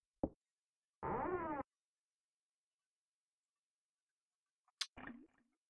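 Short wet squelching bursts from a creature or object in the Clock Tower horror game, a few isolated squishes separated by long silences.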